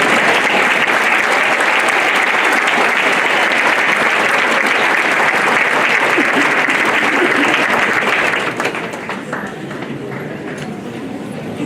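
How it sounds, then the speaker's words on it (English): Loud, dense applause from a large audience at an awards ceremony, sustained for several seconds before thinning out and fading to scattered claps near the end. "You thought you were done clapping."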